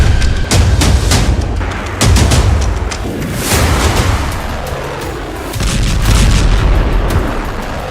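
Israeli army rocket strikes hit western Yemen in loud, rumbling booms and blasts that roll on continuously, dense and heavy throughout.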